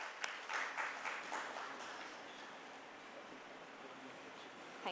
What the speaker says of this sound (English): A round of applause for keynote speaker